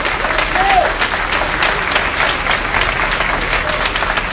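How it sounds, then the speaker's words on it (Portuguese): A church congregation applauds the pastor's daughter at a revival service in a dense, sustained burst of clapping, with a voice briefly audible over it. "Pode aplaudir a minha filha."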